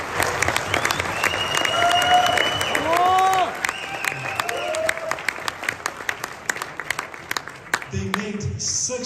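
Event attendees applaud the developers of Zeniq with crisp, irregular hand claps. Whistles, cheers and voices rise over the clapping, which then thins to scattered claps before a brief voice at the end.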